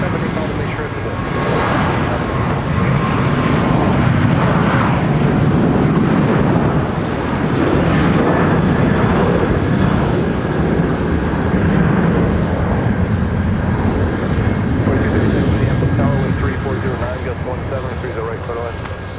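Airliner climbing out after takeoff from Minneapolis–St. Paul Airport, a loud, steady jet engine roar with broadband rumble holding throughout, wind buffeting the microphone and faint talk beneath.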